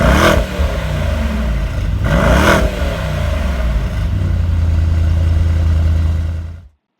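A 2018 Mercedes-Benz E63 S AMG engine fires up with a loud bark, then blips through two sharp rising revs before settling into a deep, rumbling idle that cuts off abruptly near the end.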